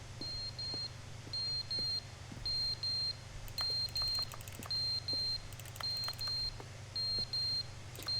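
Paired high electronic beeps from a fire alarm in The Stanley Parable Ultra Deluxe repeat at a regular pace over a low droning hum, loud and close, with scattered faint clicks and no voices.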